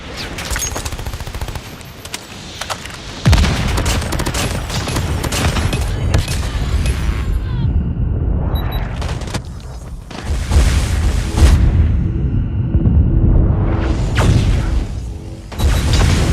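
Video game battle with a grenade blast and sustained gunfire, dense rapid shots and booms, loud and close, with swelling whooshes of heavy weapons and a short lull between volleys.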